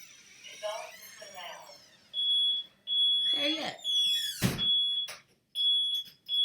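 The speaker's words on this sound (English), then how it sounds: "he gonna keep letting the alarm go off" A smoke alarm sounds in repeated high-pitched beeps with short gaps, while a person speaks briefly between them.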